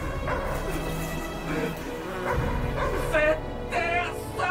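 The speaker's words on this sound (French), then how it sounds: "Il se dit harcelé par le chien d'un voisin," A neighbour's dog barks and yips in short repeated bursts, mid-distance, mixed with a voice speaking over it.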